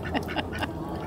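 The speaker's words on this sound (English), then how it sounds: "These ducks are coming up here." Ducks at a campground in North Carolina's Swannanoa Valley give several quick quacks in a short burst, close by over a low background hum, with no talking.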